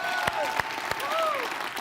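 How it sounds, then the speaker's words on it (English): Brief burst of audience applause at a product launch event, steady clapping while a voice speaks over it and tones sweep in the background. "One more round of applause for him."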